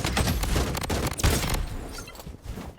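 Dense, continuous gunfire from the Blood Strike shooter game, overlapping bursts and rapid shots crackling loudly for the whole stretch with a few heavier booms among them, no voices over it.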